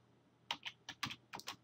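Several short bursts of keystrokes on a computer keyboard as a first and last name is typed into a form field, quick clustered taps with brief pauses between, close and clear with no talking.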